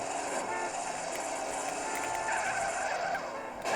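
Peugeot 206 car skidding in the video game GTA, a continuous loud tire screech with steady engine roar lasting throughout, no pauses.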